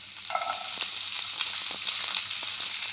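Onions fry in hot oil with ginger, garlic and green chilli, making a dense, even crackling sizzle close by, with a few light clicks of stirring and no speech.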